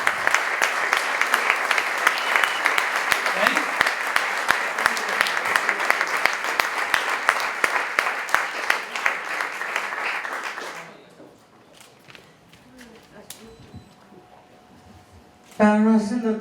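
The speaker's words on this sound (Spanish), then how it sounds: "Un fuerte el aplauso para Liliana." Strong audience applause for Liliana Herrero at an institutional inauguration, sustained dense clapping from a crowd for about ten seconds before it dies away into quiet room noise and a brief burst of sound at the end.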